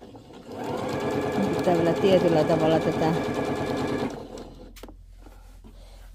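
A sewing machine stitches fabric in a steady, loud mechanical run for about four seconds, then stops; a voice speaks over the whirring near its end.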